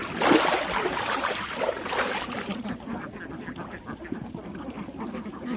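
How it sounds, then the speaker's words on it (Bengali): Ducks feeding and moving about on a duck farm, with a dense wash of nearby quacking and bustling that starts loud and eases to a busy murmur. "এই যে এখানে কিছু হাঁস খাবার খাইছে এবং উঠে এই যে ঘোরাফেরা করতেছে"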